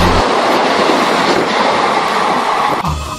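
A cartoon train thunders past on a railway line, loud and close, with a steady rumbling roar and rattling wheels throughout, easing slightly near the end.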